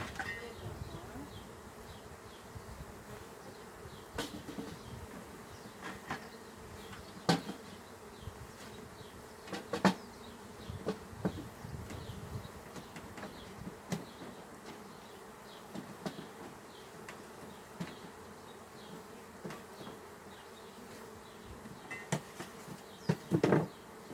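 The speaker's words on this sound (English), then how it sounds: "I had maybe 2 bees kind of chasing me around, but otherwise they're doing great. Really sweet bees this year." Honey bees buzz steadily around an open beehive during an inspection of hive splits, a close, continuous hum with occasional knocks and clicks from handling the hive.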